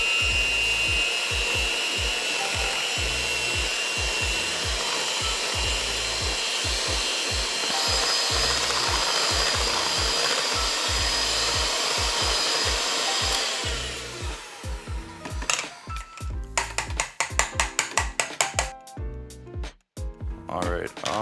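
An electric mixer whirs steadily through protein cheesecake batter for a Christmas-themed cake, a loud continuous drone with a faint rhythmic pulse that cuts off partway through, followed by scattered clatter and quieter sounds.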